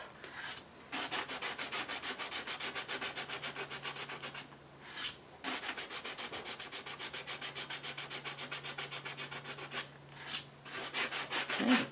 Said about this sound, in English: let's just see what happens with the sanding block